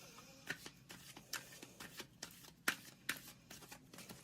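Heavy-stock tarot cards are shuffled for a reading, giving a series of quiet, crisp riffling and slapping bursts at an irregular rhythm, close to the listener with no talking.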